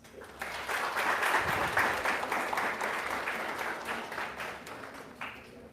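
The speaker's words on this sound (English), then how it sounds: "let us welcome our esteemed guest with a warm round of applause" An audience at an architecture expert talk gives a warm welcoming round of applause for a guest speaker, dense clapping that swells quickly and holds steady before tapering off near the end.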